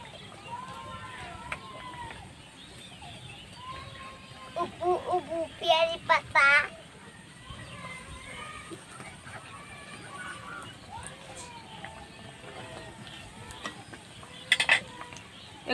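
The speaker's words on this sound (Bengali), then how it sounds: "উল্টে পাল্টে ভালো করে ভেজে নেব।" Pav frying in a pan over a village-style fire, turned over with a few metal clinks and scrapes midway and again near the end, set against a low, steady background hiss.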